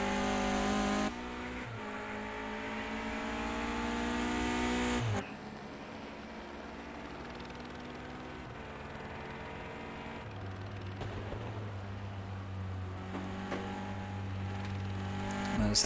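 Race cars in a sim racing video game qualifier heat, engines droning and shifting pitch steadily throughout, with a brief change around five seconds and a loud mix of revving that stays up front without speech on top.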